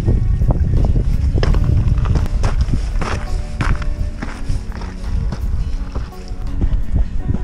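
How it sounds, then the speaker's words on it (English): Gusty wind buffets the microphone on Beinn Dorain in the Scottish mountains, a loud rumbling roar steady throughout with scattered footstep-like crunches beneath it. "Wind's starting to pick up now."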